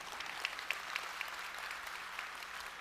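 Audience applause fills a keynote hall at the Databricks Data + AI Summit. The clapping is dense and steady, with a few sharper claps standing out, and no one speaks over it.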